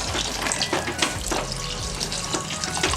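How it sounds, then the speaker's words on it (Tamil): Water is poured into a tomato kurma cooking in a pan, giving a steady splashing, rushing flow with faint sizzling throughout. "நமக்கு தேவையான அளவுக்கு தண்ணி ஊற்றிக்கலாம்"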